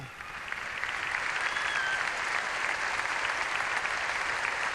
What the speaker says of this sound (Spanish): Para ellos un aplauso de reconocimiento de toda una patria que no olvida ni olvidará